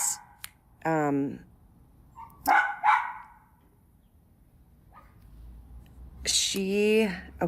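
Dogs bark indoors in a home, two or three sharp, close barks spaced across several seconds, each a short burst, with quiet gaps between them.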